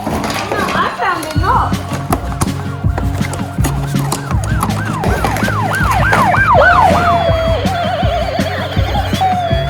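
Toy emergency vehicles from a fire truck, police car and ambulance rescue station set, their electronic sirens wailing in rising and falling sweeps alongside beeps and clicks, loud and close, with a voice talking over them.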